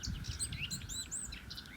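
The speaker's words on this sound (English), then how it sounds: "birds like willow warbler, common white-throat, lesser white-throat are singing abundantly" Birds sing in a morning dawn chorus that includes willow warbler, common whitethroat and lesser whitethroat, several overlapping thin chirps and warbled phrases, fairly faint and distant over a low background rumble.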